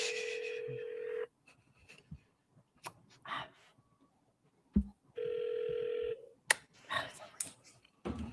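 Telephone dialing tones placing a call, with bursts of steady dual-tone beeps separated by short clicks and quiet gaps. Faint background noises sit between the tones.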